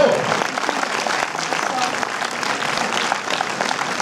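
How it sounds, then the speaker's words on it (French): Dense, steady applause from a cinema audience at the premiere of the film "Vive la France" at UGC Ciné Cité Bercy, loud and continuous throughout with no pauses. "Je voudrais que vous fassiez un tonnerre d'applaudissements pour la seule femme de cette équipe"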